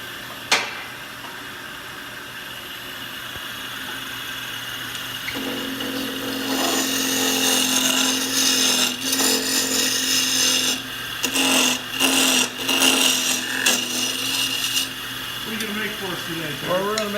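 Wood lathe turning a small toothpick holder with a smaller gouge, a steady scraping, rasping cut close by that swells and breaks off in several bursts over a constant motor hum.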